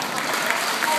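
An audience claps steadily at a concert hall in Belgorod, a bright continuous patter of many hands held at an even, fairly loud level with no voices over it.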